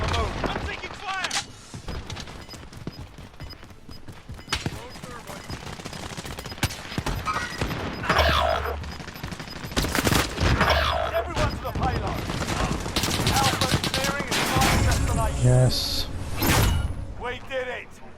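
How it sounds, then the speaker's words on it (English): Bursts of gunfire in Call of Duty Warzone, an M16 among them, crackling in repeated volleys over about eighteen seconds amid other game sounds, with voices speaking over parts of it. "I'm taking fire."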